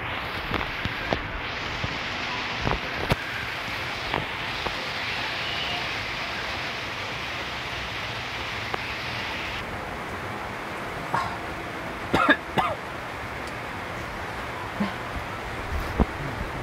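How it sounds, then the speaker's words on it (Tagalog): Heavy rain pours down in a dense, constant hiss, with occasional sharper taps and knocks breaking through. "Ang lakas talaga ng ulan dito ngayon tol."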